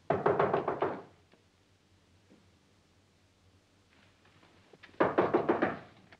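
Two bursts of rapid, rhythmic knocking on a door, close and fairly loud, separated by several seconds of near silence.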